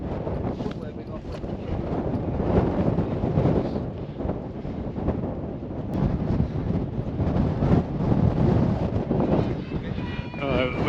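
Strong wind gusting across a hillside on Pendle Hill, a continuous loud rumbling buffet against the microphone for the whole stretch, with no clear voices above it.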